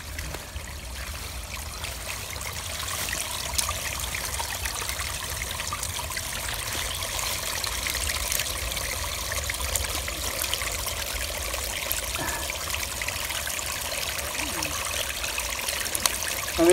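A creek runs high after a flood, its water rushing and trickling in a steady, continuous wash that stays close and fairly loud throughout, with no talk over it.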